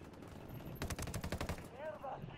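A video game firefight: a quick rattling burst of rapid gunshots, fairly quiet, followed by a brief voice at the end.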